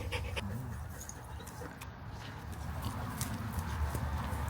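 A dog pants steadily and rapidly at close range after playing fetch with a stick, a continuous breathy rhythm with no talking over it.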